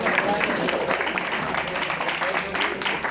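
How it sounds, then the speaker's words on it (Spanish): A seminar audience gathered for a talk on integrated pest, disease and plant nutrition management in crops claps steadily in a dense, continuous patter of hands that fills the room for a few seconds. "Aplauso, por favor."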